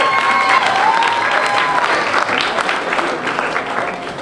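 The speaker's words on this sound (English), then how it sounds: "give them a good round of applause" A crowd gives a round of applause for the parents at a homecoming event for youth under-14 and under-16 football teams, loud dense clapping that gradually tapers, with a few faint voices and cheers mixed in.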